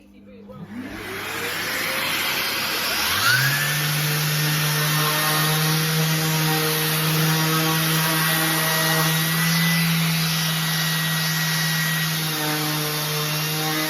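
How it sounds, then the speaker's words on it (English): Power sander working pallet wood with a hoover attached for dust extraction, spinning up to a loud, steady high whine and motor drone that holds close and continuous without talk. "I've got an extraction unit down here which is a hoover. So I'm going to sand it"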